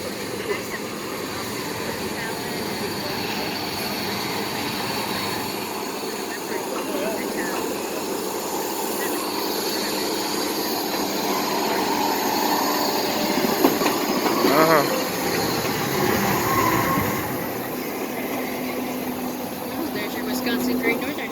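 Wisconsin Great Northern tourist train running with a continuous rumbling, rattling roll, heard from nearby with a few metallic squeals and clanks, while people talk faintly underneath.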